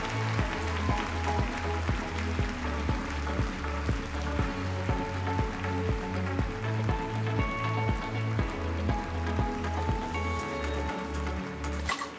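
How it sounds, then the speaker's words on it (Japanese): Applause for Miss Universe Japan contestants at the final, heard as dense, steady hall clapping under a pulsing music beat, continuing evenly throughout. "Let's give a big round of applause to all of the contestants participating tonight."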